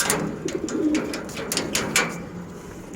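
Several tame flying pigeons at a loft in Wari, Dhaka, give low rolling coos close by, with short repeated pulses and light rustling in a quiet setting.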